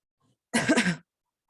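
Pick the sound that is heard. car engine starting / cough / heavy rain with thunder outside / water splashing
cough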